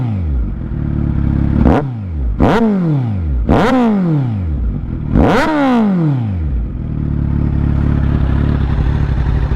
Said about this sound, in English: So I'll give you a little bit of a start up of the bike.